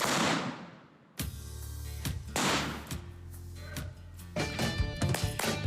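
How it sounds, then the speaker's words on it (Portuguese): A BOPE police team sets off a controlled explosion on the Esplanada dos Ministérios. After a brief hush, one sharp blast lands, then several more heavy bangs and ringing echoes follow, distant and fairly faint. "Vai abrir a explosão!"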